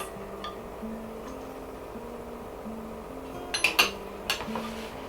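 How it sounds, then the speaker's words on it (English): Wet ingredients with vanilla extract are stirred in a bowl for pumpkin muffins: soft, sparse ticking from the spoon, then a few brighter clinks against the bowl over a faint steady hum. "I'll just stir to combine these wet ingredients"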